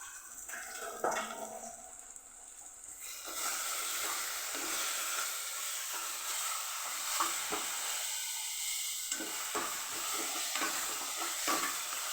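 Green chicken masala stirred in a pan after a ground paste of coriander, ginger, garlic, green chilli and cashews goes in, giving a steady loud sizzle and hiss with scraping spoon strokes, preceded by a few quieter clatters.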